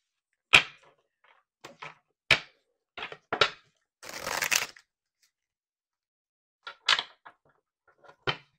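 Tarot cards riffle and snap in short bursts, with one longer crackling riffle in the middle and scattered flicks around it, close and otherwise quiet.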